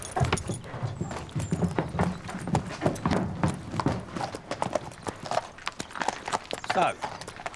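Horse hooves clip-clop in a quick, steady rhythm at close range, sounding throughout under ongoing talk.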